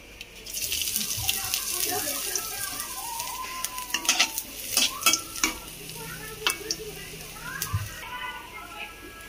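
Panch phoron, dry chillies and a bay leaf hit hot oil, giving a steady crackling sizzle with sharp pops and spatters, plus scraping stirs, close by, with some brief voice in the background.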